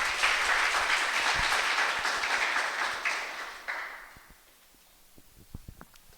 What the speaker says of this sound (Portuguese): Vamos aplaudir essa palavra de Deus que é viva.